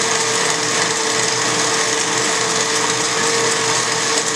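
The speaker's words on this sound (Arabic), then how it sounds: "ونضربوها حتى تولي لنا شانتي" An electric mixer whips cream into chantilly, a loud, continuous motorized whir with a steady pitch that holds unchanged from start to finish, with no speech.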